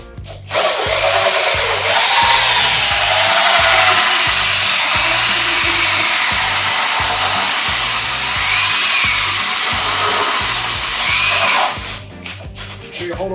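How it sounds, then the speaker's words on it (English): Power drill with a hole saw cutting into a plastic court panel, a loud steady whine sustained for about eleven seconds with a rhythmic low chatter from the teeth, then stopping and rattling briefly at the end. "The first thing is to drill a hole, just a hole saw"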